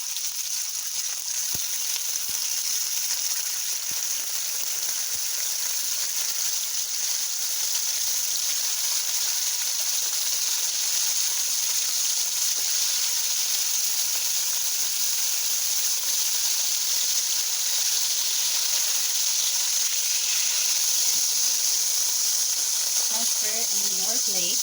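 Meat sizzles and fries steadily in a hot pan over high heat for bistek, a continuous loud hiss with faint stirring and clinks near the end.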